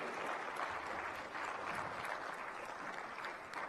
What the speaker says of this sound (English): Ladies and gentlemen, a round of applause for Anna Ryder.